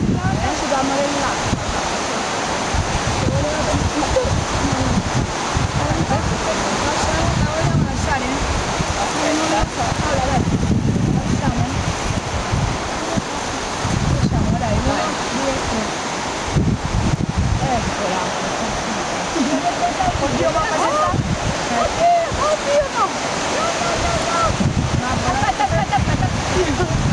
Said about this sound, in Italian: Questo c'è troppo vento. Perché c'è troppo vento.